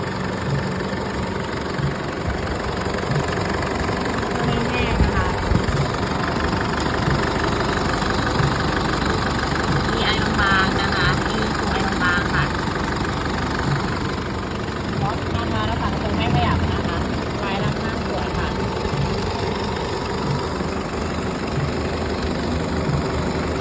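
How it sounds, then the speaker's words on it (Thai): A 2010 Isuzu D-Max X-Series with a 2.5-litre diesel engine idles steadily, a continuous close rattling clatter with a faint knock, while someone talks over it. "เดี๋ยวเราสตาร์ทฟังเสียงเครื่องแล้วก็ไปดูห้องเครื่องนะคะ"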